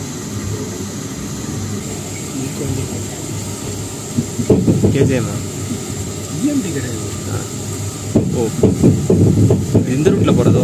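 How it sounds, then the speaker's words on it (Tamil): The Malabar Express pulls out of Mangalore Central station, a loud low rumble with rhythmic clatter building as the train gets moving, while people talk nearby. "மங்களூர் சென்ட்ரல் டிபார்ச்சர் கரெக்டாக 6:15 ட்ரெயின் கிளம்பிச்சு ஆன் டைம்."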